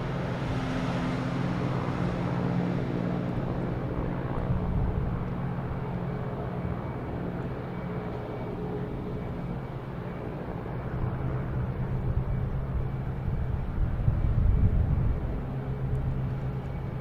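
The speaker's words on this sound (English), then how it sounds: "Here we have a JetBlue coming in from Raleigh," A JetBlue airliner arriving from Raleigh-Durham at Boston Logan Airport gives a steady low jet roar that holds at a distance and swells slightly near the end, with no talk.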